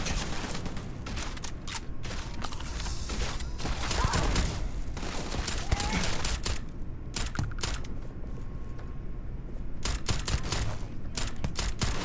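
Heavy firefight in the video game Starfield, played on Very Hard difficulty, with loud, dense bursts of rapid gunfire and mechanical clatter, broken by a few short lulls.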